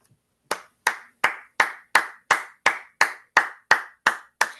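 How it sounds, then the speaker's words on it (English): Hands clap at a steady, even pace, about a dozen sharp, close claps in a quiet room with no other sound. "I know you're clapping too"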